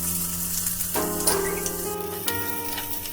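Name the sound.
garlic and onion sauteing in hot oil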